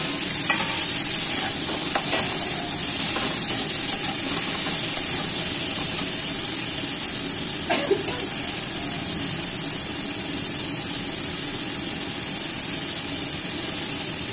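Fried crabs frying in curry masala with continuous loud sizzling and crackling, while a utensil stirs and scrapes through the pan in scattered strokes.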